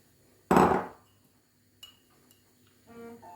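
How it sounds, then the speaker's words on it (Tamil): Chilli, onion and salt being pounded for Sri Lankan maasi sambol, one loud close thud followed by a few lighter knocks and scrapes with quiet gaps. "நல்லா இடிச்சுக்கொள்வோம்."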